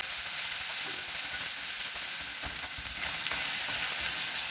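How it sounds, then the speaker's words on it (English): Garlic and onion fry in a pan, a steady dense sizzle under broadband hiss with occasional spatula scrapes, close and continuous. "Garlic, onion, slightly brown the onion."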